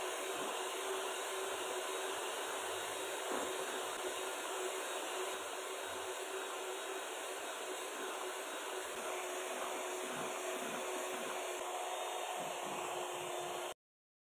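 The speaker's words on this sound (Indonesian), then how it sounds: "Dan ini harus kita pastikan di mixer selama 20 menit supaya nanti ketika es krimnya jadi tidak terbentuk lapisan atau endapan air di bagian bawahnya ya" An electric mixer whips ice cream batter at top speed, giving a steady, dense, broadband whirring roar that stays constant throughout before stopping abruptly at the end.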